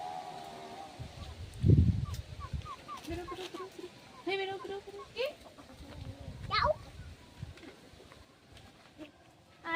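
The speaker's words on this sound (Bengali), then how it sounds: "এবার মুরগিগুলো তো ছাড়তেই হবে" Farmyard chickens cluck and squawk in short, scattered bursts as they are let out of the coop, with a few louder calls, rustling and occasional knocks close by.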